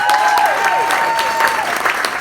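A comedy club audience applauds and cheers for a comedian, a dense and loud wall of clapping that holds steady throughout, with whistle-like squeals rising through it.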